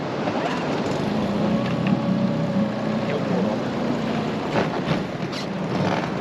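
A small inflatable boat's engine drones steadily up close off Cornwall, a constant motor hum mixed with wind and rushing water, with no break throughout.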